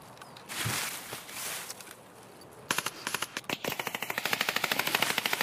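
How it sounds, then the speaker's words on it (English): Gunfire in a raid in a first-person shooter video game: a few scattered shots, then a rapid, steady burst of automatic fire growing louder, with no talking. "I'm getting shot at."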